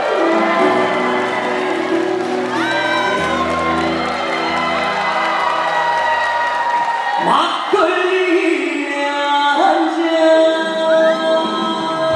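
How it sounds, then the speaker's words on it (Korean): A concert audience welcomes a singer with loud, sustained cheering, whoops and applause, while music plays underneath and an amplified voice is heard over the crowd. "여러분 소리와 박수와 함성으로 이분을 모십니다."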